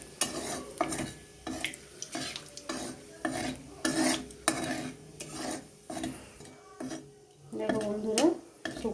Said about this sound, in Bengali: এরপর গোটা জিরে তেজপাতা শুকনো লঙ্কা একটু ভেজে নেব